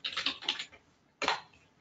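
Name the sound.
typing on a computer keyboard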